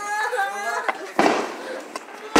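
Fireworks burst in sharp cracks at a New Year celebration, a few loud pops spaced across the moment, heard beneath a person talking excitedly close by.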